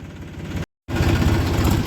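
A single tractor engine runs steadily on a foggy night, a loud low rumbling drone that cuts out for a brief moment and then resumes with the same heavy, continuous throb.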